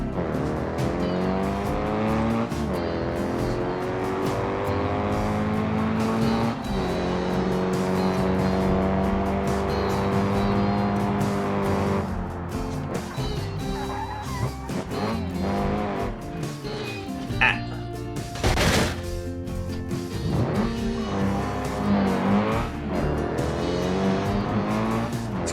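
A race car lapping a custom mountain track in BeamNG Drive, engine revving up and down through gear changes with tire squeals and skids, loud and continuous throughout.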